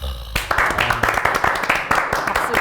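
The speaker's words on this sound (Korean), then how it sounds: "선수들한테 박수 많이 쳐줬으면 좋겠어요." A small studio group bursts into clapping for football players, starting abruptly and continuing as close, fairly loud, uneven hand claps with some voices mixed in.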